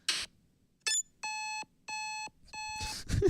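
Chiptune beeps from the NES game Golf: a short noisy burst, then a series of bright sustained electronic tones in uneven bursts, each with a clean harmonic stack, ending in a rougher noisy flourish.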